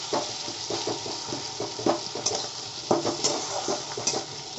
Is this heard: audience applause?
no